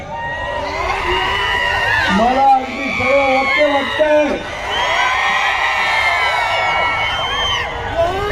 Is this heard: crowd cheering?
yes